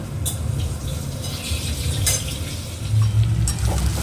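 Prawn masala stir-fried in a pan, loud continuous sizzling with occasional spoon scrapes and clinks, close up with no talking.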